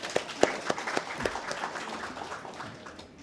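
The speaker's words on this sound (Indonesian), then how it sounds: "tepuk tangan untuk beliau" An audience applauds an honored guest at an Indonesian evening event about a retired military police general, a few sharp distinct claps at first blending into sustained moderate clapping that gradually fades.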